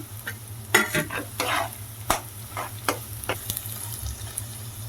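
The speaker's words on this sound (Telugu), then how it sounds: "ఉల్లిపాయలు అయితే యాడ్ చేసుకుంటున్నాను అలాగే పచ్చిమిర్చి కూడా సో అలాగే అల్లం వెల్లుల్లి కూడా యాడ్ చేసుకుంటున్నాను" Chopped onions, green chillies, ginger and garlic sizzle in hot oil for potato manchurian, with repeated stirring scrapes and clatters over a steady, close frying hiss and no talk.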